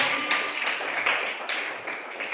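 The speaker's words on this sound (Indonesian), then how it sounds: "tepuk tangan untuk Andi" A classroom of students gives a steady round of applause for a classmate, with dense continuous clapping at an even level throughout and a few louder individual claps.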